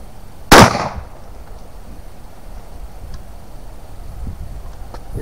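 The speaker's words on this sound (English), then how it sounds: "It's my first time firing this gun at all." A Yildiz TK12 single-shot 12 gauge shotgun fires once outdoors, a loud close blast with a short decaying tail, followed by quiet ambient background and no talk.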